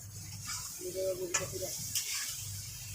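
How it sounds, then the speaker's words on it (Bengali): Fried papaya and potato pieces are tipped into spices in a pan of hot oil, giving a soft sizzle with a few light clinks and stirring scrapes, quiet and close, while a voice murmurs faintly. "এবার দিয়ে দিচ্ছি পেঁপে আলু ভেজে রেখেছিলাম"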